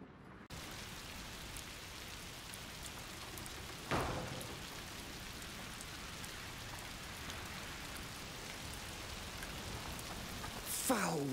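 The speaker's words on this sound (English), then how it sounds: "Foul rain." Steady, hissing rain falls in A Plague Tale: Requiem at the edge of a forest, a continuous wash of drops that runs the whole time, with a couple of brief louder swells and no voices over it.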